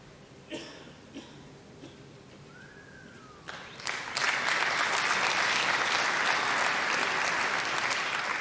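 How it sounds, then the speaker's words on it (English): Spectators at another table during a professional pool match break into applause, starting after a few scattered knocks and a cough, then swelling into sustained crowd clapping in a hall, somewhat distant. "Applause from the other table where Woodward has just put Maciol in a world of trouble early on in rack 9."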